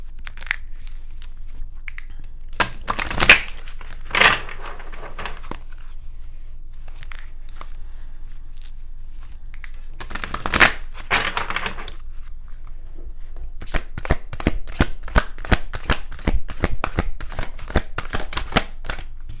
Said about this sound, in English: I'm going to shuffle them first, lay them down